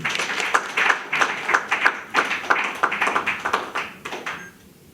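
Crowd at a political rally for President Félix Tshisekedi clapping in rhythmic unison, sharp regular beats roughly three per second, loud and steady before trailing off at the end.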